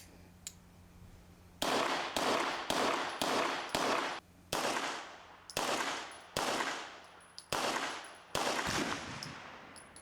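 Tisas 1911 9mm pistol fired at an outdoor range, with about a dozen sharp, loud shots in quick, uneven bursts, each one ringing off with a short echo.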